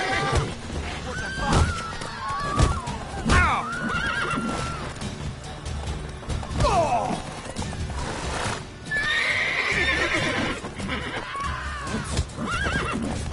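Horses in a video game neigh and whinny repeatedly over clopping hooves and thuds, loud and close, with some voices mixed in.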